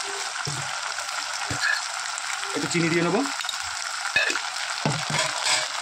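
Tomato ketchup sauce for chicken momos fries and bubbles in a pan with a steady sizzle, broken by a few spoon scrapes and taps, while a person talks over it.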